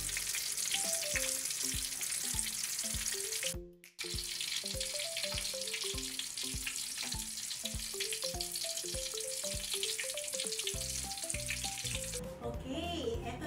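Food sizzles and crackles steadily in hot oil in a frying pan, a close, continuous hiss broken by a short silent gap and occasional stirring or clinking.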